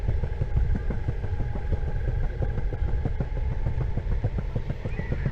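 An Eovan GTS Pro Carbon electric scooter rides at full throttle, giving a steady, loud rumble of road and wind noise with a faint motor whine running throughout, and no voices.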